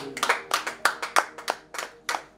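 A congregation at a French-language prayer service claps together in praise, a steady rhythmic run of sharp, bright hand claps, fairly close and loud with no voices over it.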